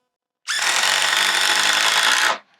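A DeWalt 12V Xtreme impact driver sinks a 3-inch wood screw in one continuous loud, close burst of rapid hammering lasting about two seconds, then stops abruptly.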